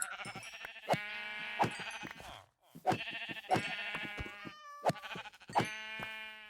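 Minecraft sheep bleating repeatedly in close, loud, wavering bursts with short pauses between calls, several bleats in a row.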